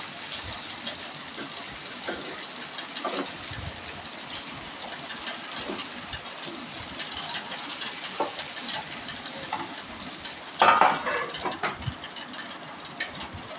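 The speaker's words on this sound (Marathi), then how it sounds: "चवीनुसार मीठ पुन्हा हे मिश्रण परतून घेऊया" A spiced mixture with turmeric and salt being stirred and sautéed in a pan, a soft continuous sizzle with occasional spatula taps and one louder scrape near the end, close and fairly quiet.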